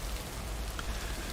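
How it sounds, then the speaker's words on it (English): Steady rain falling in the video game Lake, an even, dense hiss with no distinct drops or other sounds. "It's a rainy day."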